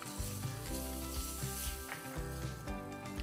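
Grated fresh ginger and finely chopped garlic sizzle steadily in a hot pan for a fish curry, a soft continuous frying hiss with faint stirring clicks and scrapes, no voices present.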